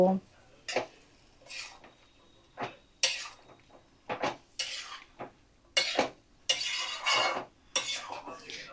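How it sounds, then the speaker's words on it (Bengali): Bottle gourd curry is stirred in a pot after water is added, with repeated close clanks and scrapes of a spoon against metal in irregular bursts over a faint simmer. "দিয়ে ভালো করে নাড়াচাড়া করে আমি চাপা দিয়ে কিছুক্ষণ রান্নাটা হতে দেব"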